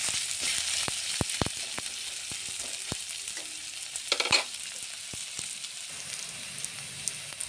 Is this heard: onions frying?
yes